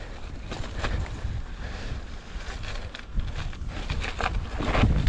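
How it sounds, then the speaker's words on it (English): Strong wind buffets the microphone in the thin air of a mountain-bike descent toward Gorakshep on the Everest Base Camp route, a steady roaring rumble with gusts rising near the end, no talking. "It's so windy."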